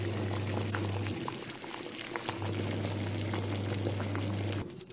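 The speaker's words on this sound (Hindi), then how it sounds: "अच्छे से हमें 5 से 10 मिनट्स के लिए इसे पकने के लिए छोड़ देंगे।" Aloo mutton korma with potatoes simmers in a pot on a gas stove, a continuous dense bubbling and burbling with a steady low burner hum that cuts out briefly, close and fairly loud.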